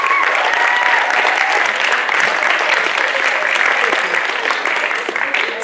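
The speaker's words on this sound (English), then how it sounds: "I think we need to give all our parents, especially those who've flown all the way here, a huge round of applause" Students at a school event give their parents a loud, sustained round of applause, dense close clapping with some cheering voices mixed in, steady throughout.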